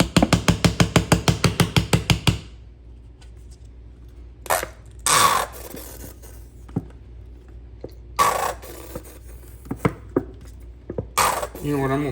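Ketchup bottle slapped hard and fast at first, a rapid burst of about a dozen loud smacks, then a few scattered heavier thumps and knocks with pauses between, close and alone.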